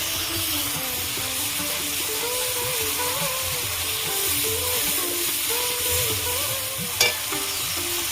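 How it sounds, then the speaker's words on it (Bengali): Fried potatoes being stirred and sautéed into thick gravy in a pan, with a steady close sizzle and bubbling, scraping stir sounds and a brief sharp clink near the end. "ভেজে রাখা আলুগুলো দিয়ে দেবো ভালো করে কষিয়ে নেবো"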